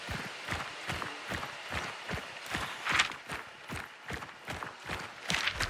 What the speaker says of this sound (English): So you can actually hear 2 sets of footsteps there.